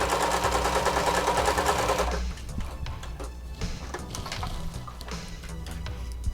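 A sewing machine stitches a harness strap with a fast, loud mechanical whir for about two seconds, then stops, leaving quieter handling and clicks.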